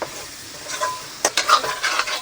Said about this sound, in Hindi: इसको ऐसे 10 मिनट तलेंगे